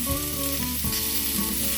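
Steady, loud sizzling of steak searing in a hot frying pan, continuous crackle and hiss with a faint scrape partway through.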